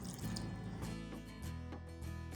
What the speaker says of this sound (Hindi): अब इसके अंदर मैं ठंडा पानी डालूंगी।